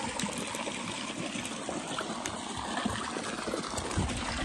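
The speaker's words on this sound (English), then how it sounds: "So we just want to get in the water like this." Steady broadband splashing and trickling of hot spring water as someone lowers themselves in, a continuous close wash of water with no talk.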